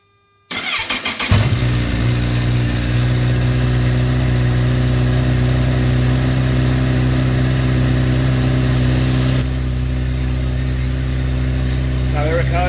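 A 2018 Kawasaki H2 SX SE motorcycle fitted with a blow off valve cranks and fires up, then settles into a loud, steady, close idle that runs without a break through the rest of the clip.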